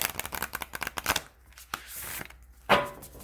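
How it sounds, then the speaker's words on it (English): Moonology oracle cards being shuffled in quick riffling bursts, a dense flurry of flicks, a pause, then another sharp riffle near the end. Close and clear, no talking. "I usually get a good feel of the cards when I'm shuffling."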